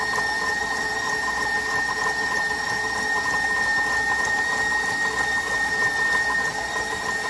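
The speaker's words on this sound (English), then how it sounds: "we'll turn it up to high speed until it's creamy" Electric mixer creaming butter and sugar at high speed, a loud constant motor whine with a steady tonal hum and churning texture, close and uninterrupted with no voices.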